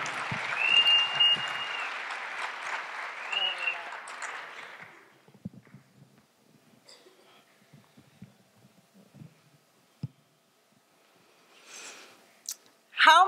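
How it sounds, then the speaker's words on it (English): Warm applause from an audience welcoming a speaker to a talk, dense and steady for about five seconds before it fades out, followed by near silence with scattered small shuffles and clicks. "But please, a big warm round of applause for Teena."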